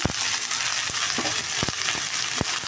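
Onions fry in a pan for a vegetable dish, giving a steady, close sizzle broken by scattered sharp clicks from stirring.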